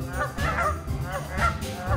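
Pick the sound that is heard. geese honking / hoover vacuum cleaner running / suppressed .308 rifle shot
geese honking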